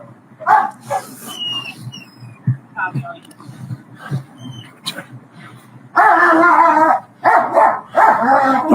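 A police dog barks and yips around a parked car during an encounter with officers, first in scattered sharp barks and whimpers, then in loud, rapid close barking near the end, with people talking faintly underneath.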